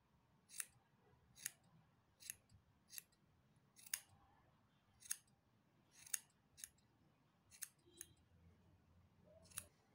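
Scissors snip yarn tassels on a handmade Venetian shawl, about a dozen crisp, separate cuts at uneven intervals, close and fairly quiet against a soft room background with no talking.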